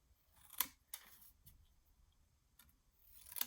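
Scissors snipping out a small paper piece for a tiny 3x4 mini album craft, a few quick crisp cuts spaced apart, faint and close with no talking.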